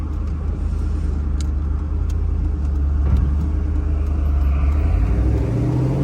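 Cammed GMC Sierra pickup with an automatic transmission driving, a steady loud low engine rumble and road drone throughout with no talk.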